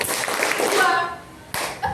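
Hands clap in a classroom group activity, a few sharp claps heard close, mixed with children's voices talking.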